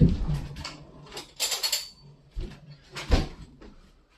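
Spoon taken from a kitchen drawer while making chocolate chip biscuits: a short run of clinks, rattles and sliding knocks from cutlery and the drawer, close and fairly quiet, with brief bursts of clatter.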